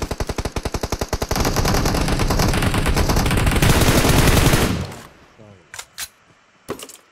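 Automatic gunfire in PUBG Mobile, a rapid string of loud sharp shots that blurs into a dense burst for several seconds, then cuts off to a few scattered clicks and thuds while a player speaks briefly.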